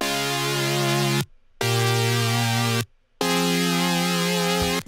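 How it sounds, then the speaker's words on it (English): A sustained synthesizer chord plays loud and steady, cut by two brief silences, then resumes with the same rich harmonic stack. "We have the main chord, which sounds like this."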